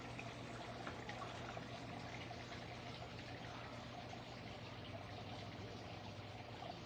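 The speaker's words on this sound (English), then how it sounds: "Nice water feature." A garden water feature with a goldfish pond trickles and splashes in a steady, unbroken wash of water, close and even throughout with no voices.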